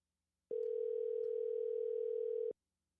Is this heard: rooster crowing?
no